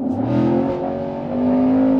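A Camaro with a 6.2L V8 and a replaced muffler accelerates hard on the road, a loud, close, rising engine roar that holds steady for a couple of seconds.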